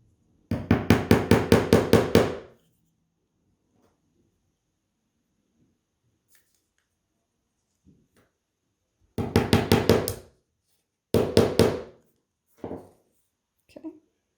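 Bursts of rapid hammer taps driving pins into a string-art board come in quick runs of light strikes, separated by long quiet gaps, with a few softer single taps at the end.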